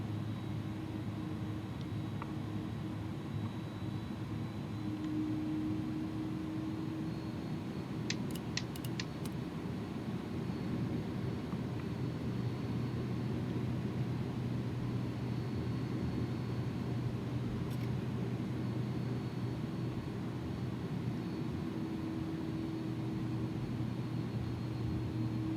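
A simulated Airbus A300-600 jet lets out a steady, droning engine roar with a low hum as it prepares for takeoff, heard close inside the cockpit, with only a few faint clicks and no voices.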